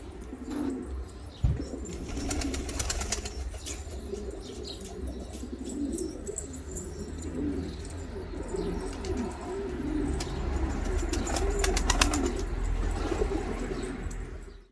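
Newly released pigeons from a loft flock, with soft cooing throughout and a few flurries of flapping wings, steady and fairly close, no talk.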